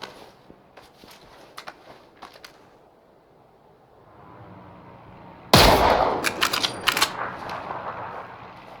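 Video game gunfire: scattered faint shots and clicks early on, then a sudden loud burst of rapid fire with sharp repeated cracks that continues for a few seconds.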